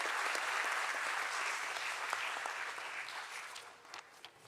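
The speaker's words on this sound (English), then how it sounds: "Let's give a huge round of applause" Sustained audience applause at a corporate stock listing ceremony, a dense wash of many clapping hands that stays steady, then thins and fades toward the end.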